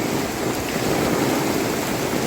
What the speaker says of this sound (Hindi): वक्त के साथ साथ बारिश और भी तेज़ हो रहा है